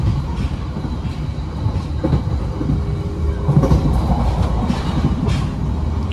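A Banyubiru business-class train rumbles steadily along the rails with a low, continuous roar and faint rhythmic clacks, heard from inside a carriage.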